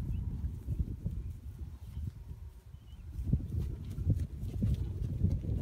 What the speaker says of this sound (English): I've never seen this many horses in one place.